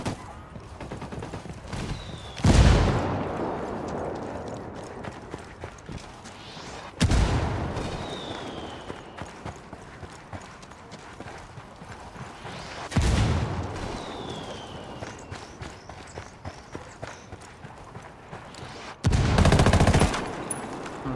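Repeated heavy mortar explosions, four loud booms spread across the stretch, land amid continuous rattling rifle and machine-gun fire during a firefight in the video game Tom Clancy's Ghost Recon Wildlands.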